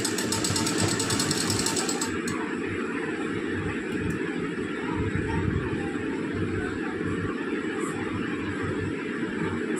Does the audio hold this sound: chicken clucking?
no